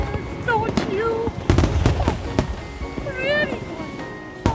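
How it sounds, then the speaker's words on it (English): Fireworks bursting over Waikiki in Hawaii, several sharp booms scattered through the clip, with whistling rising tones and people chattering and exclaiming nearby. "I love the fireworks, don't you?"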